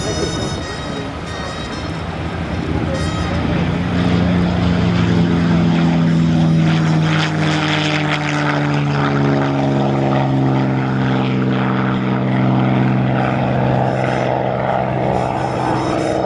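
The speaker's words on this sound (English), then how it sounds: "Listen to the P-51." A P-51 Mustang propeller airplane engine roars loudly and steadily, its pitch sliding as the aircraft passes close by, sustained throughout.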